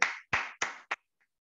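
Four separate hand claps, sharp and close, spaced a fraction of a second apart at a communication workshop, then quiet.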